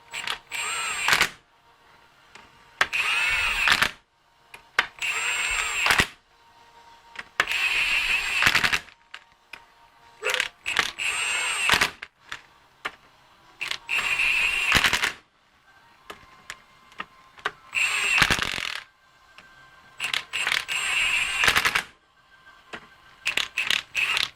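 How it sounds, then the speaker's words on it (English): An impact gun running down axle bolts on a 10-bolt Eaton posi rear axle, a series of sharp, loud rattling bursts of hammering, each a second or two long, separated by short quiet gaps. "I'm gonna run it down with the gun."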